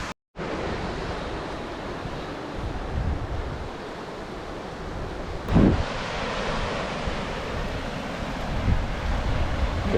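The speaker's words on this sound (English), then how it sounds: "It's just windy. Oh, the water is churning right now." Steady wind rushes over churning lake water lapping at a shore, a broad continuous wash with a brief louder gust midway, no voices.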